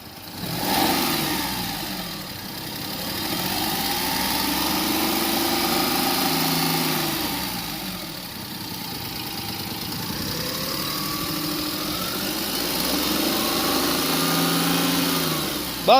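A 2005 Maruti Alto STD standard-model car engine with over a lakh on the clock revs steadily up and down for about sixteen seconds, close and fairly loud, with no talking.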